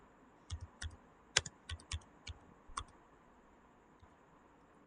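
Quick bursts of keystrokes on a computer keyboard as a simple name is typed, close and fairly faint, in uneven clusters of clicks with short pauses between them, no voices.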